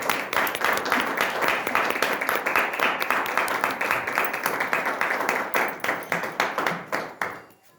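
A church congregation breaks into loud, sustained applause to welcome a deacon preacher, dense clapping that thins into scattered individual claps before fading out.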